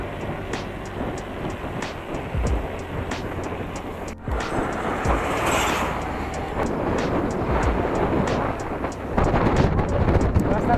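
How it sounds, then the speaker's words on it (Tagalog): Strong wind buffets the microphone in a steady roar while mountain biking on a rural trail in Abra, with clattering and rumbling underneath from the moving bike. "Lakas ng hangin."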